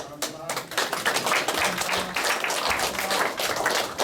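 An audience at a lecture applauds with dense, steady clapping that fills the room for several seconds at an even level.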